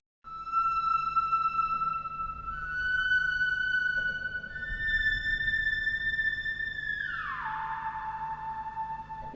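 Yamaha CS-10 analog synthesizer playing a lead patch drenched in huge reverb: sustained bright tones stepping through slow notes, ending in a long pitch glide down into a washy tail.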